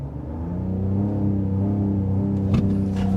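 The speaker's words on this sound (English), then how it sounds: "All right, we're gonna try one more launch here. Launch control enabled." A 2025 Ram 1500 RHO pickup with a twin-turbo engine launching under launch control, a close, deep, rumbling engine drone that builds steadily in strength, with no voices.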